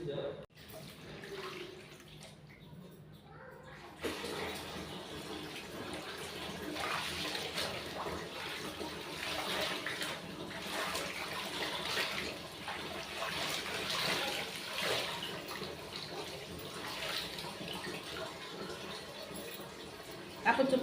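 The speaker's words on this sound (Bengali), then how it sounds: "কাপড় চোপড় ধোয়া শেষ" Clothes being washed by hand with water at a household tap, steady running and splashing water through most of the stretch, quiet at first, with someone talking intermittently.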